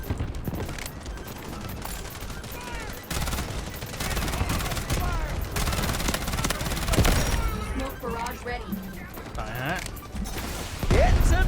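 A gun fires rapid bursts in the shooter game Delta Force, a dense, fast fusillade that runs almost nonstop with a few brief gaps, loud and close, while a voice talks over it.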